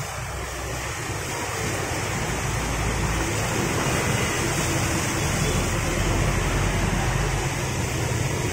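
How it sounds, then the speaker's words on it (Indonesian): Strong floodwaters surge through the streets of Binjai, a steady broadband roar of rushing water and wind buffeting close by, continuous and loud for the whole stretch. "Ombak kuat."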